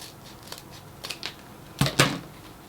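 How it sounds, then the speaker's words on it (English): Scissors snip diagonally through wreath ribbon to make a dovetail end, a few light, sharp cuts at the start followed by two louder, close snips near the end, with no talking. "And then you cut it in a diagonal."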